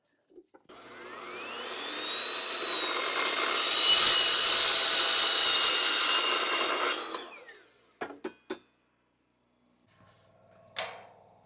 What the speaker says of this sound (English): So I'm just going to cut this material down into a smaller, more manageable piece